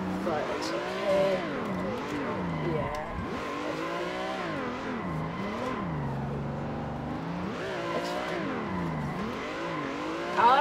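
Two cars drift in tandem in the racing game Assetto Corsa, their engine notes continuously rising and falling as they rev, with bursts of tire noise throughout.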